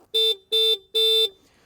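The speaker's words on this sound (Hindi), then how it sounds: "हॉर्न भी डिसेंट है considering this is a scooter" Hero Xoom 125 scooter horn sounding three times at close range, each blast a loud, steady electric tone of a fraction of a second, with short gaps between and no talk.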